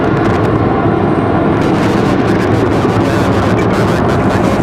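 A Delta Airbus A319 jet at Raleigh Durham airport, a loud, steady broadband engine roar filling the whole stretch with no breaks.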